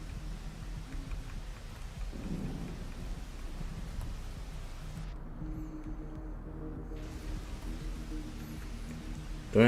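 Rain falls steadily in the video game Rain World, a continuous close hiss with a low rumble of thunder rolling underneath.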